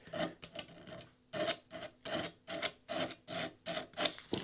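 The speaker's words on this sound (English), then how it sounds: "And then I'll just get some sandpaper. This is 240." Brisk back-and-forth sanding of a wooden guitar neck with 240 grit sandpaper, a steady run of short rasping strokes, close and fairly quiet with no talk.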